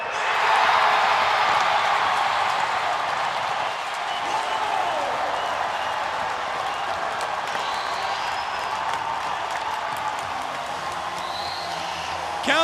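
Arena crowd roaring and applauding at a pro indoor lacrosse game in San Diego after a goal is upheld on review: a loud sustained wash of cheering that eases slightly midway, with a commentator faintly audible beneath it.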